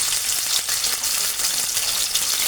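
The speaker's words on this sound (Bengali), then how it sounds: "তেল গরম হয়ে গেছে, কড়াইয়ের মধ্যে কেটে রাখা মাংসের টুকরাগুলো ছেড়ে দেব" Pieces of cut meat frying in hot white oil in a wok for breakfast noodles, giving a loud, steady, close sizzle with no voices.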